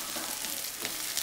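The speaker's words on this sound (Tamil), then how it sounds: "கருவேப்பிலை போட்டு இஞ்சி பச்சை மிளகா போட்டு வெங்காயத்தை போட்டு நல்லா வதக்குங்க" Onion, ginger, green chilli and curry leaves sautéing in a pan, a brief steady hissing sizzle heard close and fairly soft, without any talking.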